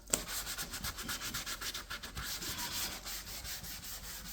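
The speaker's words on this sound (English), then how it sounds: "now we're gonna go over it with some 600 grit" Hand sanding with 600 grit sandpaper across car paint on a Jaguar X-Type, a close rhythmic rasping rub in even back-and-forth strokes, fairly quiet.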